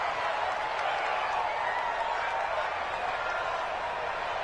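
Home crowd roaring at an American football game, a dense, steady wall of cheering and applause filling the stadium without a break, loud and sustained throughout.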